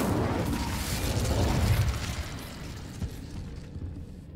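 The Incendio fire spell cast in the video game Hogwarts Legacy, a loud rushing whoosh and rumble that swells over the first two seconds, then fades into a lower crackling tail, heard alone.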